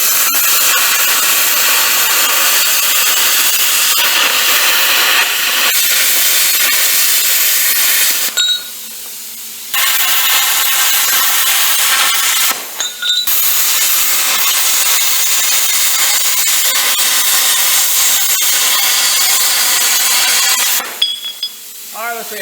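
A metal piece is cut out for a homemade gooseneck trailer coupler with a loud, continuous hissing, rasping cut that runs close and steady, broken by a few short pauses before resuming.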